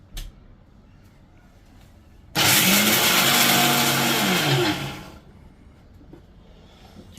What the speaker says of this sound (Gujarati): એનો મસાલો ત્યાં રેડી થાય છે મિક્સરની અંદર.